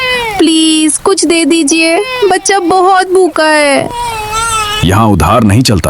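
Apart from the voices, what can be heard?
small child crying continuously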